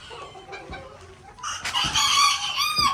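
Old English Game Bantam chickens crowing and clucking in a pen. Quieter clucks come first, then a loud, strained crow rises and holds near the end, with no talk.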